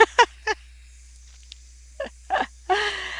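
A pet bird gives a series of short, sharp honking calls, two quick ones, a pause, then several more close together, loud and near in an otherwise quiet room.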